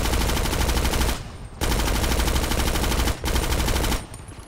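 A video game shootout set in Hollywood with police, where loud sustained automatic gunfire comes in three long bursts separated by brief gaps, with no talking over it.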